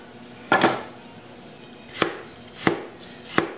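A knife cuts through peeled, cored apple quarters on a board in four crisp, separate chops, close and distinct, the later three coming at a quicker, even pace.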